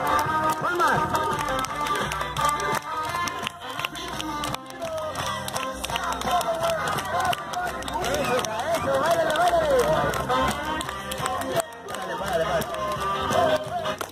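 Children's party with a clown in Tantoyuca: the crowd claps along to loud music in a dense, steady beat while voices shout and chatter over it throughout.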